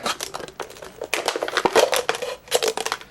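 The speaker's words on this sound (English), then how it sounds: "So we're going to go in, cut the bottle open," A knife cuts open a plastic bottle for a coin-in-bottle magic trick, making close, loud crinkling and crunching of the plastic in irregular bursts with short pauses, and no speech.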